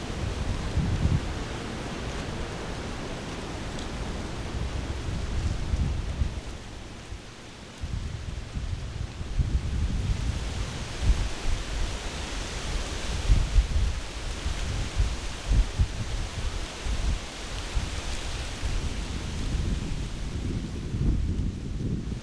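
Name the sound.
strong wind blowing outdoors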